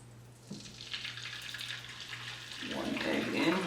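An egg drops into a pan of hot oil, heat then turned down to medium, and starts a soft, steady sizzle that builds and grows louder toward the end, heard close up over faint background hiss.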